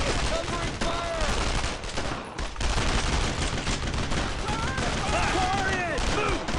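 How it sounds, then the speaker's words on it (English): Gunfire from the World War II shooter game Brothers in Arms: Road to Hill 30, heard as dense, continuous rifle and machine-gun bursts with shouting voices mixed into the battle din. "Fire now! Covering fire!"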